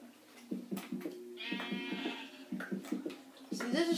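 A sheep bleats in a survival video game, with wavering cries rising over a low, steady background hum and people talking.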